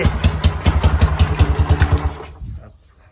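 A Honda Sonic 125 with a tuned 66 mm bore engine revs while parked, giving loud, rhythmic, throbbing pulses that cut off abruptly near the end and fade into quiet.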